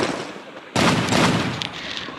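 A Thompson gun fires in the Free Fire video game as a loud, dense burst of gunfire that cuts in abruptly and continues steadily, close and harsh with no talking.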